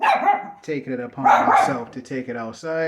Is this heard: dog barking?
yes